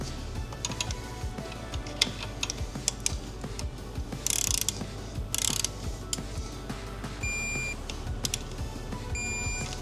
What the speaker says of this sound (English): We're going to get our torque wrench, and the manual calls for 15 Newton meters.